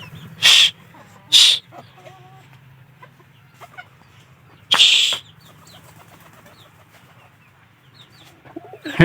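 Domestic fowl in a pigeon loft setting give soft, scattered clucks and small calls between three loud, sharp bursts of noise, with faint background activity throughout.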